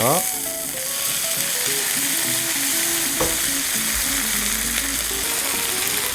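A dry-aged dairy cow sirloin fries loudly in a pan with a steady, dense sizzle, broken by short clacks and scraping as the meat is flipped.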